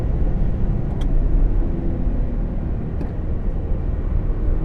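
A 2017 Jaguar F-Pace S crossover with a ZF 8-speed gearbox accelerates, its engine a steady, loud, low rumble heard from inside the cabin, with faint clicks on top.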